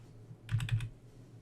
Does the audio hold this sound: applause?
no